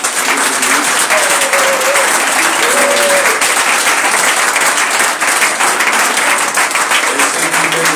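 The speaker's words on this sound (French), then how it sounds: "On va acclamer pour nous." A church congregation applauds loudly and steadily, a thick wash of clapping from many hands that fills the space throughout, with a voice rising briefly over it.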